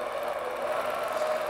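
A longarm quilting machine stitches in the ditch along a quilting ruler, giving a steady, close, continuous mechanical whir with a faint tonal hum and no pauses.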